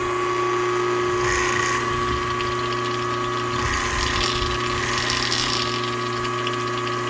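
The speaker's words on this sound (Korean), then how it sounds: "그러면 에어가 뿡뿡뿡뿡 빠지죠." An Italian KW35 pressure washer pump runs steadily and loudly while purging air from its hose, a constant mechanical whine and hum with watery sputtering on top, and no voices.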